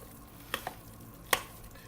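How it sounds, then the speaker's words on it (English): A spoon stirs ham hocks into a Swedish root vegetable mash, giving a few soft clicks and scrapes against the pot over a quiet background. "Just give this a stir to have the ham evenly distributed into this."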